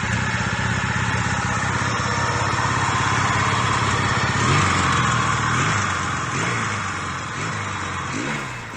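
A 1970s-style Yamaha XS650 twin-cylinder motorcycle that sat unused for ten years and has freshly cleaned carburetors idles steadily with a rough, throbbing engine note. The engine sounds close and fairly loud, with a slight rise in revs partway through.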